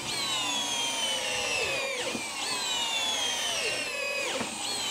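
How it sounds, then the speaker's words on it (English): Compact drill/drivers, including DeWalt Atomic, Ryobi and Makita models, run at high speed to drive construction screws, giving a steady loud whine that drops in pitch as each screw bites in, twice in quick succession. "I want to see how these drills can fire off these construction screws on high speed."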